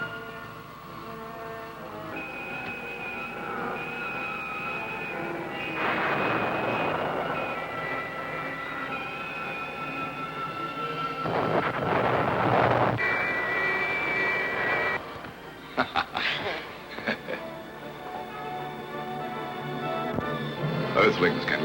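Roaring engine thrust from a space rocket in a Japanese sci-fi show builds in loud surges over a steady tonal hum, with music and sound effects layered throughout.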